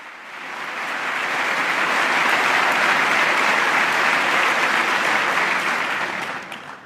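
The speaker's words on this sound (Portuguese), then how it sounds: "E novamente todos de pé aplaudem o Santo Padre." A standing audience in the US Congress applauds Pope Francis during his 2015 address. The dense, sustained clapping swells up, holds steady for several seconds, then begins to taper off.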